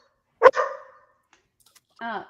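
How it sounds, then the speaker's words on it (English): A dog barks sharply twice, close and loud, with a short silent pause before a second, voiced bark at the end. "Sorry about my dog. Keeps barking."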